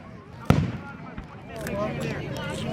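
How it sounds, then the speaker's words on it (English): A single sharp firework blast cracks out near the start, followed by softer crackling and a low wash of outdoor noise, with people talking nearby. "Just enjoy these fireworks."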